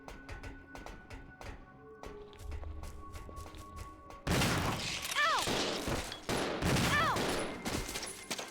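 Gunfire in the video game Resident Evil 0 starts as scattered shots and footsteps, then breaks into a loud, rapid burst of repeated shots with ringing tails.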